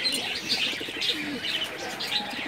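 Pigeons coo in a loft at feeding time in the afternoon, low burbling calls mixed with sharper chirps and a faint rustle of wings, many birds close together and fairly loud.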